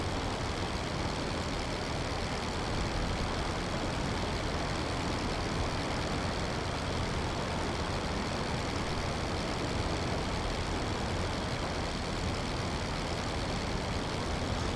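Damaged biplane engine in the flight game Rise of Flight, a constant dense droning roar that holds at an even, loud level with no pauses.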